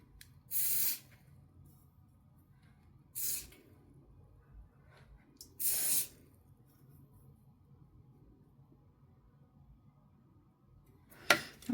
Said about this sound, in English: I'm just going to spray a little bit on my finger.